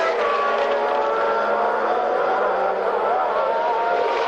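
Formula One race cars roar past at Watkins Glen, loud and continuous high-pitched engine wail from several cars racing together, a steady dense blare with no pauses.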